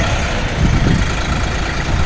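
A Bulat 244L tractor with a KM385 engine idles close by, giving a steady, even low rumble that holds without change for about two seconds, with no talking.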